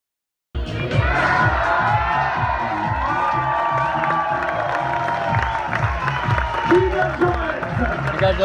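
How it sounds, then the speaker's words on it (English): A large crowd breaks into loud, sustained applause, cheers and whoops for a finisher at the Mont Blanc Marathon, rising suddenly from silence and carrying on steadily with an announcer speaking over it. "vous pouvez lui faire un tonnerre d'applaudissements"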